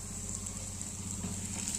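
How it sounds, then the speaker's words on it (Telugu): Ground spice paste sizzling in hot oil in a pan with cumin and mustard seeds, a steady close crackle and hiss that runs evenly under a low background hum, with no one speaking. "పేస్ట్ని కూడా దీంట్లో వేసేసుకోవాలి వేసి చక్కగా వేయించుకోవాలండి"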